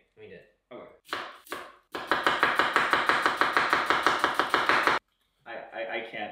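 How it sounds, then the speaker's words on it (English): Onion chopped with a knife on a cutting board for carne asada tacos: a fast, even run of about twenty sharp chops, loud and close, with brief talk-like sounds before and after. "I'm trying to chop an onion."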